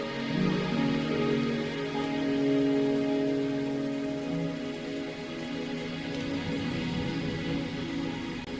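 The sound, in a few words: rain in a video game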